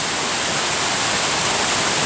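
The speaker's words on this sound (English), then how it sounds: "So the water's coming down off this rock and then whirlpooling down there." Water cascades down off a rock and swirls into a whirlpool in a stream in the Cranberry Wilderness of West Virginia, a steady, full rushing roar that fills the whole clip without a break.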